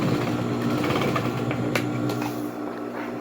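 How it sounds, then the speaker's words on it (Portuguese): A sewing machine stitching a seam on a creative sewing project, a steady close mechanical whir running continuously with faint clicks, easing slightly near the end. "Vou passando uma costura."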